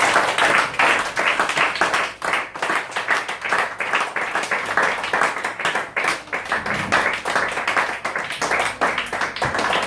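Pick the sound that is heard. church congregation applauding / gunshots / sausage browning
church congregation applauding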